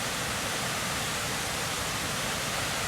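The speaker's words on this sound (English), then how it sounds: "Yellowstone is known for its spectacular waterfalls," Iris Falls, a waterfall on the Bechler River in Yellowstone, roars as a steady, dense wash of rushing water, close and continuous with no voices.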